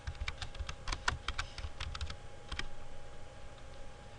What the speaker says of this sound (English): if it is not on the list, we can type it manually